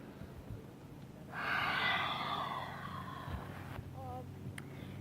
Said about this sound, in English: Go ahead and inhale through the nose, exhale through the mouth.